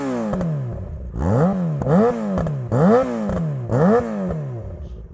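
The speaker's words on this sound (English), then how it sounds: "This is a Two Brothers exhaust." A 2012 Yamaha FZ6R streetfighter with a Two Brothers exhaust revving up close in four rising and falling throttle blips, loud, with a rough idle between them and no voices.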